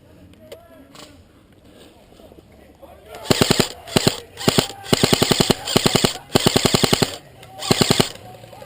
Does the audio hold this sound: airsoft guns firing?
yes